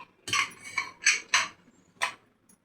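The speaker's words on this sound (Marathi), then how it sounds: "हे बघा, आता आपली कुकर खोलते." A pressure cooker full of potato and pea curry is opened, producing a string of five sharp metallic clanks and scrapes with short silent gaps between them, close by and with no talk.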